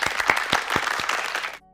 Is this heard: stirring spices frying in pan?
no